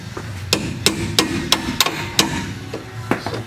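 A hammer strikes metal during rear strut replacement on a 2000 Chrysler Cirrus, giving about eight sharp, fairly close blows at uneven intervals.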